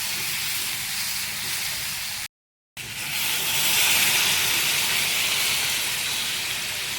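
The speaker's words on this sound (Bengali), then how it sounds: "এখন আমি এখানে ঝোল দিয়ে দেবো।" Broth poured into a hot pan while cooking hits with a loud steamy sizzle. A sudden gap of silence is followed by a louder, rising hiss that keeps going to the end, with no talking.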